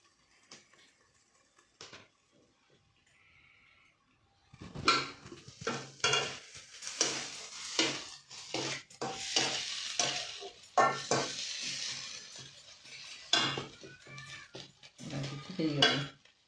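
Potatoes and cauliflower sizzling and frying in a pan, with a quiet start, then loud crackling and spitting from about four seconds on and repeated scraping stir strokes against the pan, up close with no talking.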